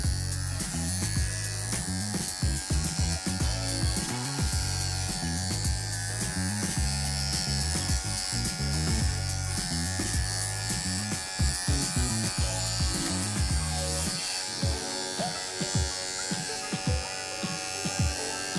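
Wahl professional electric clippers buzz steadily up close while trimming a dog's face toward the nose and between the eyes during grooming; the motor drone runs almost continuously, with brief dips near the end.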